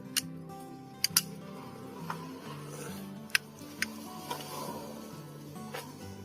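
Manual hammering to tighten a motorbike clutch part, a series of sharp metallic taps at irregular intervals, some doubled, close and crisp over a low mechanical hum.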